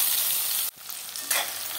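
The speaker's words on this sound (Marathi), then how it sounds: "कांदा बी आपण आता परतून घ्यायचा आहे।" Chopped onion sautéing in hot oil with garlic, a steady bright sizzle broken by a brief dip and a stirring scrape, close and moderately loud.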